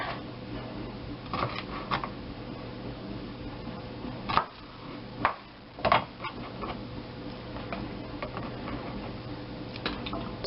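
Garlic cloves pressed and smashed under a blade on a board, a few sharp thuds and cracks standing out from quiet kitchen handling and light rustling.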